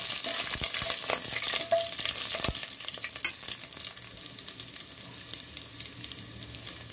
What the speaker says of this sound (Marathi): आणि लसूण टाकून देऊया। छानसं आपण हलवून घेऊया।